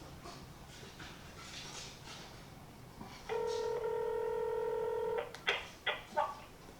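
Telephone dialing to call a guest: a long steady dial tone holds loud for about two seconds, then several short, clear touch-tone beeps follow in quick succession.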